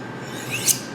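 A knife edge drawn along the corrugated side of a ceramic honing rod gives a close, steady rasping stroke that swells to a brief bright scrape near the end, with no talking.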